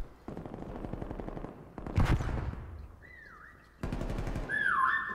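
Automatic gunfire in a Call of Duty Cold War prop hunt match: rapid rattling bursts, a sharp louder blast in the middle, then another dense volley mixed with whistling game tones.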